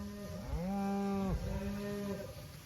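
A 1,000-pound cow grazing in tall, chest-high pasture grass moos twice, close and clear: first a long, drawn-out low moo, then a shorter one after a brief break, with no talk.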